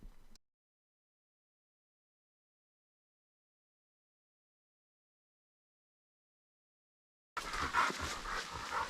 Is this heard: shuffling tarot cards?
no